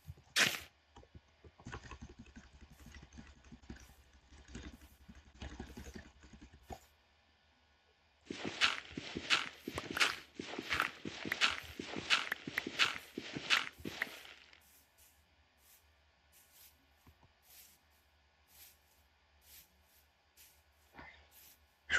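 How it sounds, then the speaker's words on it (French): Footsteps of a zombie in a hardcore survival video game: bursts of rapid, crackling steps, with one dense, loud stretch in the middle and fainter, sparser steps before and after, separated by near-silent gaps. "Je crois au bruit de pas, c'est un zombie"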